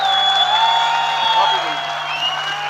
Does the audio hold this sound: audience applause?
yes